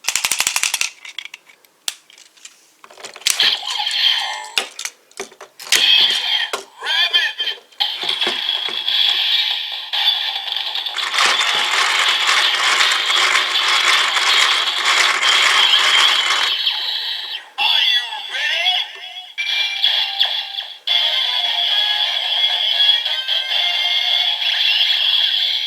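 A Kamen Rider Build DX toy driver plays its transformation sequence with bottles swapped into it: sharp clicks, ratcheting mechanical clacks and bright electronic effects, close and loud, running continuously with brief gaps.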